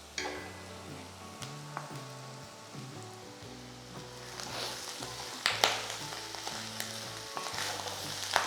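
Clam meat frying with sliced onions in a pan, a soft steady sizzle with occasional sharper crackles and stirring scrapes, faint tonal background music underneath.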